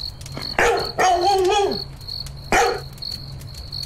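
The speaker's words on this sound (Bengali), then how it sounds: "কুকুরের ডাকে ভয়" Dog barking as a sound effect in a Bengali horror audio story, with a sharp bark, a drawn-out howling bark and a second bark, close and loud over a steady cricket chirr in the night.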